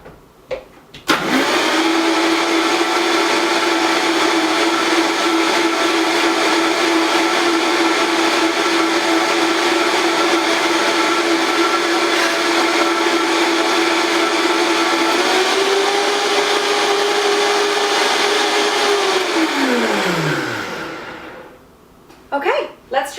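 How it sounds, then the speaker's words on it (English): Vitamix blender whirring through an olive oil dressing, a loud steady motor drone for about twenty seconds that rises slightly in pitch near the end, then winds down and stops. "We're going to throw this in the Vitamix."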